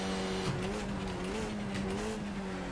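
Skip Barber race car in a sim racing game at VIR, its engine droning steadily while tires squeal and skid as it slides off the track, loud and continuous, no talk.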